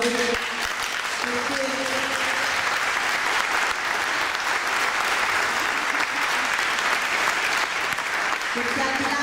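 Sustained, dense applause from a large concert crowd, steady and fairly loud throughout, with faint voices briefly audible beneath the clapping.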